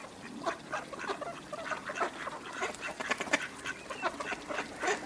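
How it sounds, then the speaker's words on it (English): A flock of about 200 ducks quacking nearby as someone walks slowly among them: dense, overlapping quacks in quick irregular bursts, loud and close, with no talking. "There are about 200 ducks here"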